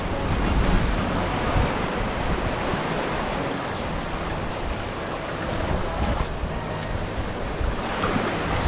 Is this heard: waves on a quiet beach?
yes